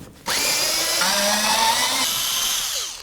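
A power tool with an 8 mm socket whirs steadily while backing out bolts on a 2009-2016 Mercedes-Benz E350 during headlight removal, loud and close, starting abruptly with a pitch shift midway and winding down at the end.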